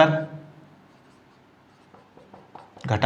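Writing on a board during a maths lesson on linear equations gives a few brief, faint scratchy strokes in a quiet gap, with voice fragments before and after.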